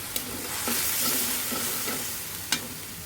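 Ginger-garlic paste masala with a splash of water is stir-fried in a pan for koi fish dopeyaza, a loud, close, continuous sizzle punctuated by a few sharp spatula scrapes.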